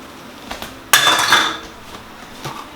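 Pineapple juice is whisked into a bowl of wet cake batter ingredients: a sharp clatter of a utensil against the bowl, then a short burst of brisk scraping and clinking that fades to light taps.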